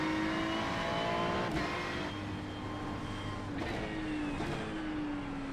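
Race car engine in the iRacing sim, a steady droning whine with pitch rising and dropping across gear shifts, loud and continuous without talk.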